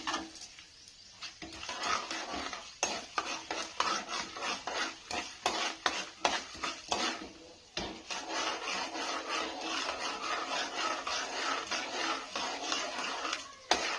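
Urad dal roasting in a pan, stirred steadily with a utensil: a continuous dry scraping and rasping texture with rapid rhythmic strokes, close and fairly loud, with a brief pause near the middle.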